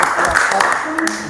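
A classroom audience claps briefly after a group presentation, a short burst of many hands mixed with voices talking over it.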